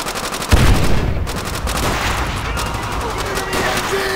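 Sustained automatic machine gun fire in a World War II battle in Call of Duty: World at War, a loud continuous rattle opening with a heavy blast, with faint shouted voices underneath.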